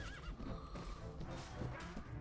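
A horse neighs amid hoof clip-clop and battle noise on a hillside in the video game Mount and Blade: Warband, the whinny rising clearly over a busy, mid-distance soundscape.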